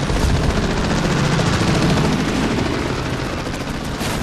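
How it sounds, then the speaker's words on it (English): Helicopter over a combat zone in Call of Duty: Modern Warfare 3, a steady loud rotor roar mixed with dense gunfire bursts throughout, no talk. "They're dropping guys from the chopper too."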